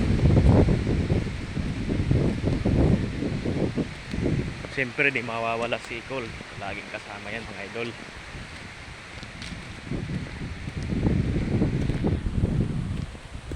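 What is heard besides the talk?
wind blowing during typhoon Opong, no rain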